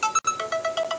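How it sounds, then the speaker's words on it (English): A phone ringtone plays in a workshop, a rapid pattern of bright electronic tones repeating in short pulses, fairly loud and close, with no talking over it. "my phone's going crazy."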